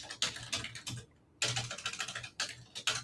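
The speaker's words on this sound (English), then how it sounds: "I can hear every single keyboard click" Rapid clicking of a computer keyboard picked up by a microphone on a live day-trading call, close and crisp in two fast bursts separated by a brief pause, with no talking.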